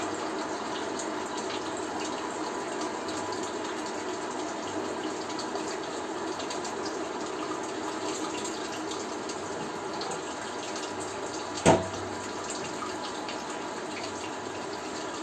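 Water trickles and pours steadily through a bed of malted grain starch during home beer brewing in a workshop, a continuous broadband wash with one brief sharp knock near the end.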